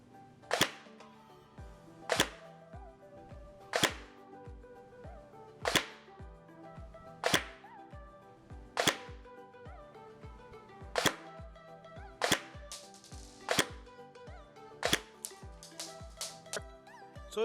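Matrix Calico Jack polymer M4 airsoft rifle firing 0.25 g BBs one at a time over a chronograph, about a dozen sharp cracking shots spaced roughly a second or two apart, close and loud with no talk.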